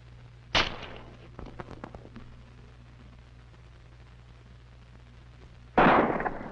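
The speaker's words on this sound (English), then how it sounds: "We'll put this potato on top of this post, and again, we'll shoot from about 10 feet to simulate an accident." Two sharp gunshots fired from about ten feet at a potato set on top of a post, each a loud close crack with a short decaying tail, separated by quieter handling sounds and a low steady hum.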